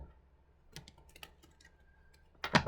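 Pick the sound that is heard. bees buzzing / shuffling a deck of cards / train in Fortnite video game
shuffling a deck of cards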